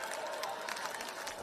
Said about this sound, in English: You can hear the Japanese crowd urging their team.